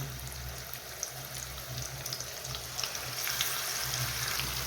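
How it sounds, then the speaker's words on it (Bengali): Buhuan fish frying in oil in a pan for a Bengali fish bhuna: a steady soft sizzle and bubbling with a low hum beneath and faint crackles building slightly toward the end. "বিসমিল্লাহ কইয়া মাছটা বাজিলাই।"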